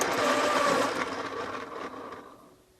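A pencil is sharpened in a quick burst of rapid grinding buzz, close and fairly loud at first, then fading away over a couple of seconds into quiet.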